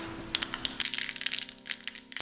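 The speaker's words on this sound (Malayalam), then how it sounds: "കടുക് പൊട്ടിക്കഴിയുമ്പോൾ" Half a teaspoon of mustard seeds spatters in a tablespoon of hot coconut oil for a South Kerala onion curry, giving rapid, irregular close pops and crackles over a faint steady sizzle.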